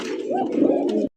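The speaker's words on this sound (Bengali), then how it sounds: "মেহেন্দিওয়ালা এক জোড়া বোম্বাই কবুতর, ইন্ডিয়ান বোম্বাই কবুতর" A pair of henna-marked Indian Bombay pigeons coo close by. A single loud, rolling coo swells and fades over about a second, then cuts off abruptly.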